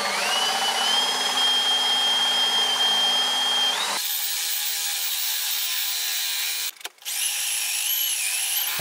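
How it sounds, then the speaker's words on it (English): A hand drill bores a hole in reclaimed wood with a continuous grinding, whirring drone up close. The pitch shifts partway through, and the sound cuts out briefly near the end. "I'm going to use a hand drill to bore the hole"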